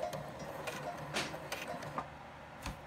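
Sewing machine finishing a reinforcement stitch on a piece of fabric, a soft mechanical whirring with regular ticking and clicking beats at moderate volume and no talking.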